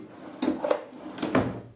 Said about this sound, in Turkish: rahat bir şekilde çekmeceler artık yerine oturuyor